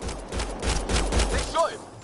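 Rapid bursts of gunfire crackle through a firefight in the Mass Effect Andromeda video game, close and loud, with a voice briefly heard over the shots.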